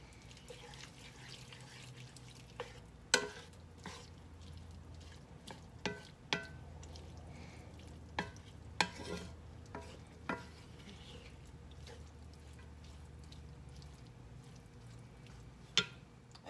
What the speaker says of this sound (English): I'm going to add some beef broth to the beef and just start mixing all that together